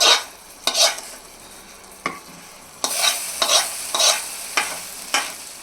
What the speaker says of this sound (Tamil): அந்த கேரமலைஸ் ஆன அந்த சுகரை அப்படியே ஊற்றிக்கோங்க